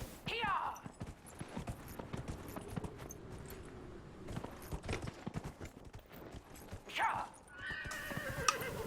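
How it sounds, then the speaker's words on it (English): A horse in Dragon Age: Inquisition neighs loudly, then hooves clip-clop steadily, with a second whinny near the end, all under a continuous game background and voices talking. "Oh man, where'd you get a horse?"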